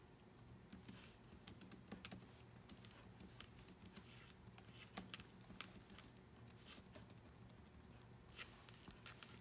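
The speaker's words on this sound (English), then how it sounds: "Let's do some typing." Steady typing on a computer keyboard, with a continuous patter of soft key clicks and a few sharper taps, heard faintly without any talk.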